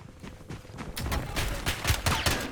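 Rapid bursts of gunfire in the Call of Duty video game, a dense fusillade of repeated shots that thickens toward the end, loud and close with no talk over it.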